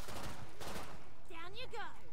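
Pistol shots from the video game Killing Floor 2 ring out as a few sharp, loud bursts in quick succession, followed by someone talking over the game.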